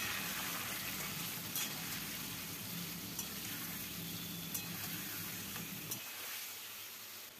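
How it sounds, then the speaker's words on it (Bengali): Chicken pieces frying with whole spices in a pan, a soft, continuous sizzle heard close, with a few faint clinks and a brief drop in the lower rumble near the end. "মাংসটা ভাজা হতে হতে প্রায় 5 মিনিট হয়ে গেছে"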